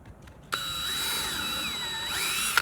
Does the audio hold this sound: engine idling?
no